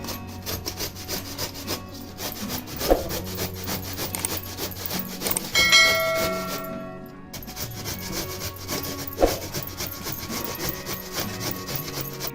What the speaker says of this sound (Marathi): आता आंबा हा किसून घ्यायचा आहे